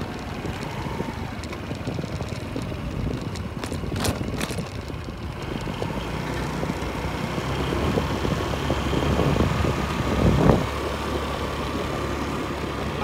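Steady engine drone of a small scooter cruising around a residential street, a continuous mid-level rumble with slight swells and a brief louder pass near the end, no voices over it.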